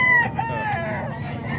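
A rooster brought for sale at a chicken market in Calumpit crows close by, a single brief, loud cock-a-doodle-doo that trails off, with low background noise behind it.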